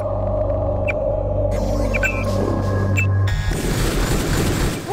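A loud, deep booming explosion in the video game Deus Ex, with sustained low rumble and a sharp secondary burst partway through, heard up close with no voices.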